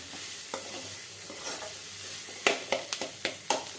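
A spoon scrapes and clacks in a pan while sundakkai pachadi (turkey berry curry) is stirred, giving soft sizzling under a series of sharp knocks that bunch up toward the end, with no talk.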